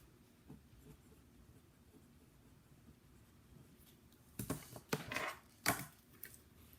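Pencil writing on paper, quiet at first, then a cluster of louder scratchy strokes in the last few seconds.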